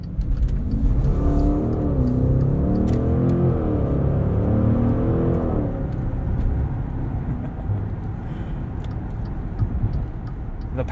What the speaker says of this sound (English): The power from this V8 makes everything effortless. There's tons of torque from the twin turbos.